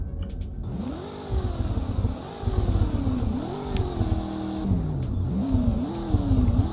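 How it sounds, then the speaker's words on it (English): An Audi RS7 engine in a Roblox driving game revs repeatedly, pitch climbing and dropping in several bursts over a steady idle rumble, loud and close, with no talking. "But here, let's rev it real quick."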